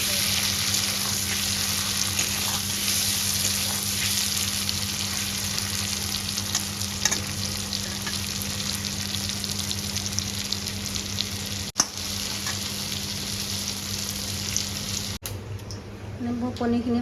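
Paneer frying in a pan gives a steady, close sizzle that runs unbroken throughout, with a low hum underneath and a couple of sharp stirring clicks near the end.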